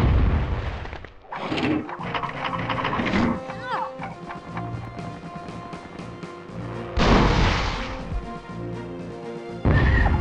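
Heavy booming bazooka blasts in the PS1 game Hogs of War ring out several times, loud and close, over a busy backdrop of game sounds and music.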